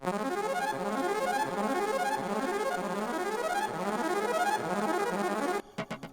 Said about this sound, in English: an alchemy patch that I've set to a pretty steep arpeggiator, 30-second notes